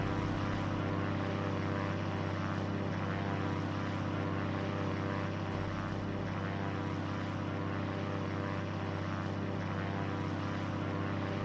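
A propeller airplane engine drones steadily at constant pitch, a loud, even hum with a throbbing low tone that holds throughout.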